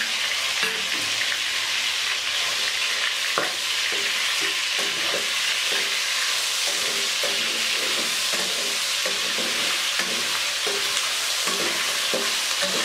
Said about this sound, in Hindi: तो अब मैं इसको 2 मिनट तक और भून दूँगी।